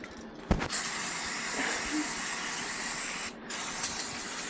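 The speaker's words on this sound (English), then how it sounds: "Might as well clean this caliper down." Cleaner sprayed onto a dirty scooter brake caliper in two long, loud, close hissing bursts separated by a short pause.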